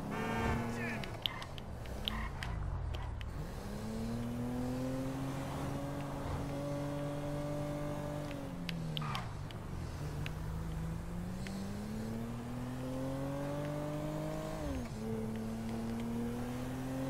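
A car being driven in the video game GTA V, its engine a steady continuous drone that rises and falls in pitch as it accelerates and eases off, loud and up close, with no talking over it.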